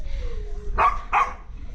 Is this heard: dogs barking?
yes